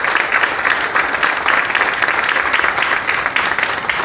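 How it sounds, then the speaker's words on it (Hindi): An audience at a stage event breaks into loud, sustained applause to welcome a speaker, a dense, even clatter of many hands clapping throughout. "मैं बुलाना चाहूंगा मंच पर जोरदार ताली के साथ मिस्टर भरत देवांगन जी को"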